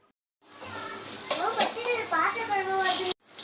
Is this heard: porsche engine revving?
no